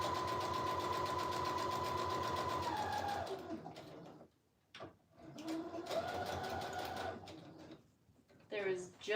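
A sewing machine runs a straight stitch in a steady, fast mechanical whir for about three seconds, then stops and restarts in shorter bursts, with brief pauses between runs.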